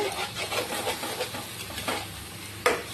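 Masala sautés in a pan beside whole khoira fish, a soft sizzle broken by rhythmic scraping strokes of a spatula, ending with a sharper clack.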